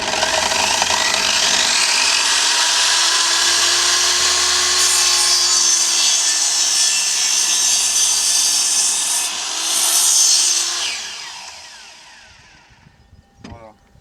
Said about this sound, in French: il faut faire une double action pour démarrer la scie